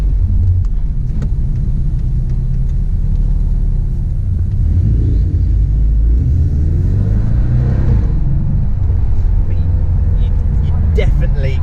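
A Porsche 718 Boxster S with its flat-four engine drives slowly on a cold late-January day, its low, steady rumble continuous and close, swelling briefly as it accelerates.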